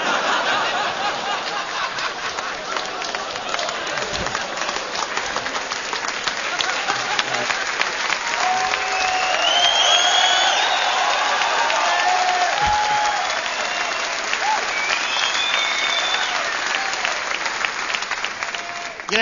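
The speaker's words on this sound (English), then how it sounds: "You know how happy it makes me that you just applauded a shit-eating joke?" Sustained audience applause fills a comedy club after a crude joke at a stand-up show, dense and steady throughout with scattered chuckles and whoops mixed in.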